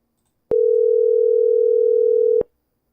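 A single steady voicemail beep on a phone call sounds alone, loud and clean, holding for about two seconds before cutting off.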